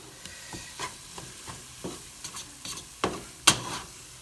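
A spatula scrapes and stirs a pot of chicken and sausage gumbo. Irregular soft scrapes and knocks repeat near the pot, and one sharper clatter comes near the end.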